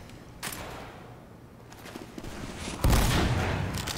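Backscatter gun fired in a video game: several sharp blasts, with a louder, sustained burst near the end, against a low game background.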